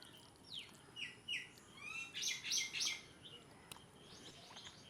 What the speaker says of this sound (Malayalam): എന്തോരം കിളികളാണ് ഇവിടെ